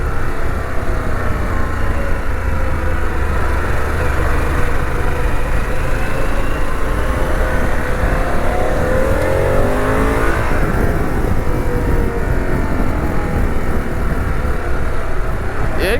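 A Harley-Davidson Pan America motorcycle engine revs loudly and continuously, rising and falling in pitch as it winds up and back down, with steady roaring noise throughout.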